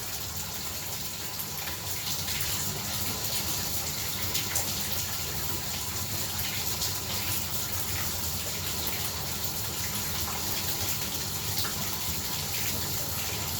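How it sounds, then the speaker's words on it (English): Steady running hot tap water, about 131 degrees, splashing continuously over a thermometer, a broad even gush with no pauses and no voices. "I'll go ahead and just let that water run on it."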